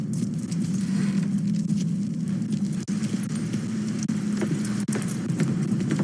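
Car keys jangle in a Mafia 3 scene, a steady metallic rattle running the whole stretch over a low rumble like an idling vehicle, with no talk.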